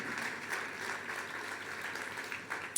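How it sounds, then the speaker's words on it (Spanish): A church congregation claps in praise, a steady, fairly faint patter of applause heard from a distance without talk. "Fuerte ese aplauso de alabanza al Señor."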